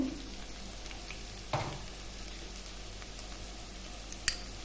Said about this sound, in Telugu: అల్లం పేస్ట్ వేసి బాగా వేగనిద్దాము